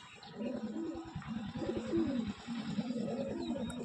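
Male pigeon cooing, a soft low rhythmic series of throaty coos repeating steadily, close but quiet, with no talking.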